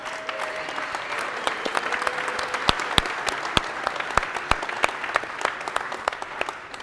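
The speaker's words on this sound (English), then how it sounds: "Another huge round of applause for them all." An audience at a science event held in a brewery applauds. The clapping is dense and sustained, with sharp individual claps standing out near the microphone for the whole stretch.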